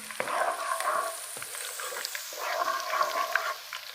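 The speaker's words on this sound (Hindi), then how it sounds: "इसको थोड़ा सा फ्राई करेंगे।" Ginger and garlic paste sizzles and crackles in a hot pan, close and fairly quiet, with occasional stirring scrapes and bursts of spitting.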